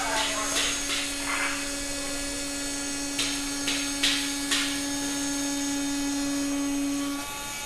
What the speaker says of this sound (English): And she's going to turn off the vacuum.